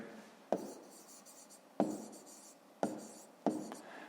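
A hand writes digits on paper, four distinct pen taps and short scratchy strokes, quiet and close with soft rubbing between them.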